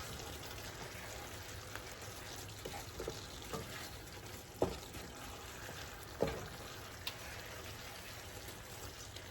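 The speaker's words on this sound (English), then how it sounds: "we're just going to let them simmer for a couple of minutes" Sautéed apples simmer in a thickened brown sugar and cinnamon syrup, giving a steady soft bubbling sizzle with a few faint stirring knocks and taps on the pan.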